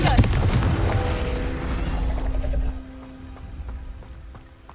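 A loud, booming blast from the Confringo fire spell in Hogwarts Legacy bursts out at once, then rolls off into a rumbling, fading tail, with a voice heard alongside it.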